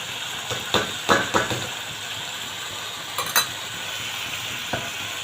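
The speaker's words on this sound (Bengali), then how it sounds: "মোটামুটি আমার চিকেনটা মশলার সাথে ভাজানো হয়েই গেছে" Chicken frying with spices in a pan, a soft steady sizzle under occasional scraping knocks of a spatula stirring, close and fairly quiet.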